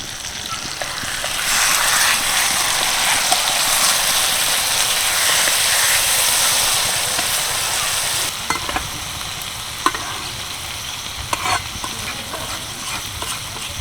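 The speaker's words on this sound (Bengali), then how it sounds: "দিয়ে কিন্তু একদম লো আছে চার থেকে পাঁচ মিনিট মতো বসিয়ে রাখবো" Brinjal pickle sizzles steadily in a pan over low heat while being stirred with roasted spice powder. The frying hiss is loud and constant, broken by scraping stirs and a few sharp utensil knocks later on.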